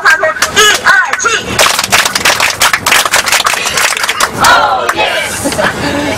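A tour group aboard a bus on a trip to Xi'an, China, bursts into loud cheering, whoops and rapid clapping, a close, dense crowd noise rising and falling over several seconds with shouted voices mixed in.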